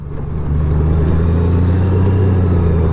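Honda GL1800 Goldwing motorcycle engine running, a steady low rumbling drone from the rider's position with road and wind noise, loud and continuous.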